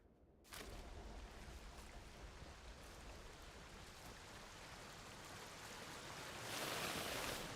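Steady broadband rush of falling water at a waterfall in the video game Atomfall, continuous and fairly close, swelling slightly louder toward the end with no voices.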